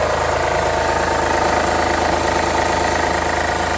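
A Honda Accord 3.5 i-VTEC VCM V6, 2008-era, idles steadily up close with a continuous mechanical drone and a faint rhythmic ticking knock running through it, with no voices over it.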